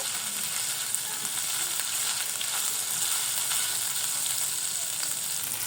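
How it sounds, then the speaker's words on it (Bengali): Chicken pieces fry in hot oil in a pan, a steady, dense sizzle crackling evenly throughout at close range with no talking. "চিকেনের মধ্যে যাতে জুসি ভাবটা থাকে ওরকম করে ভেজে নিব।"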